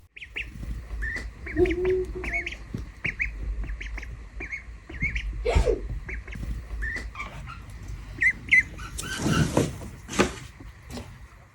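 A wild duck kept as a pet inside a home quacks and squawks in short repeated bursts, fairly close, over a steady low room hum with a few clicks and rustles.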